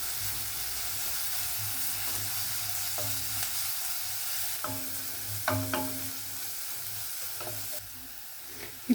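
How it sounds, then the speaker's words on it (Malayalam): Chopped onions sizzle and hiss steadily in a pan over a medium flame while being sautéed, with a few soft stirring scrapes and clinks rising above the constant frying noise, no voices. "ഒരു മീഡിയം ഫ്ലെയിമിൽ വെച്ചിട്ട് ലൈറ്റ് ബ്രൗൺ കളർ ആവുന്നിടം വരെ ഉള്ളി വഴറ്റിയെടുക്കാം."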